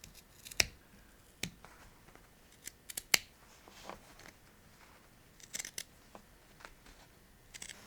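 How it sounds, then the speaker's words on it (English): Scissors make sparse, sharp snips while trimming fabric corners close to a seam on a wrap dress, with quiet rustling between the cuts. "then you cut the corners all the way into, but not crossing the seam"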